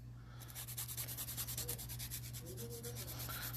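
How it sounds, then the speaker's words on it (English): A nail file rubs against a fingernail's free edge during builder gel nail prep, giving a soft, rhythmic scratchy rasp of quick, even strokes, close and fairly quiet. "So I like to bevel the free edge at a 0-degree angle."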